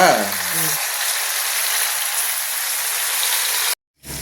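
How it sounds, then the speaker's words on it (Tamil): Hot oil sizzles steadily with a dense, crackling hiss as food deep-fries, loud and close, cutting off abruptly near the end. "இதுக்கு பேர் தான் எண்ணெயில போட்டு பொரிக்கிறதா"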